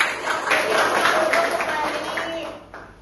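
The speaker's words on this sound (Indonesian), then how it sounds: "tepuk tangan dulu kita semua" A school class of hands clapping together in a dense, steady patter for about three seconds, with voices mixed into the noise.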